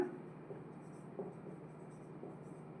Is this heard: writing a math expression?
yes